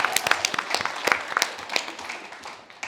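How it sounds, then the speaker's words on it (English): An audience at a talk event applauds with scattered, moderately loud claps that taper off gradually, with no talking. "Another round of applause"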